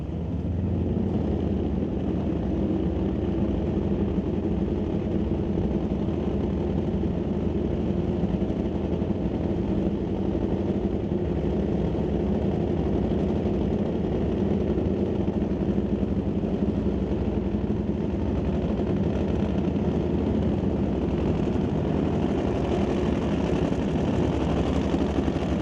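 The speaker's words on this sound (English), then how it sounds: "We'll let the other 2 Harleys rev to life." Harley-Davidson drag motorcycles idle and rev at a drag racing meet at Mission Raceway Park, a steady loud engine rumble running throughout with no talk over it.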